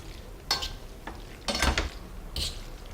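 Amatriciana pasta being stirred through tomato sauce in a pan, with four or five close scraping stir strokes separated by short pauses over a faint background and no talking.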